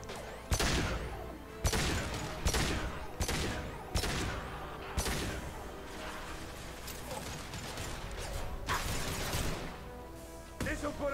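Repeated pistol shots in Mass Effect 2 crack out as sharp, loud bursts spaced a second or so apart, ringing over a dense bed of game music and effects.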